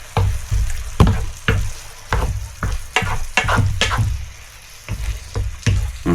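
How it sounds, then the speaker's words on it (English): Pasta and mushrooms fry in a hot pan with a loud, continuous sizzle. Regular scraping stir strokes roughly every half second run through it. "let's add the pasta together with the mushroom"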